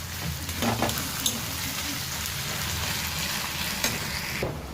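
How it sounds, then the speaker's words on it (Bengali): Onions frying in a pan on a gas stove in a home kitchen, a steady crackling sizzle with occasional stirring clatters, fairly close and continuous with no talk over it. "তো পেঁয়াজটা এখন লাল করে নিই বন্ধুরা"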